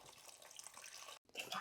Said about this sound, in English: We'll add in some water